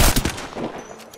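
A burst of Hemlock rifle fire in the Apex Legends video game, a few quick booming shots at the start followed by a fading echoing tail, loud and close.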